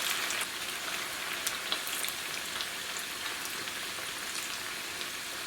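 Cauliflower pieces frying in hot oil give a steady, dense sizzle with scattered small pops and crackles, continuous and close throughout.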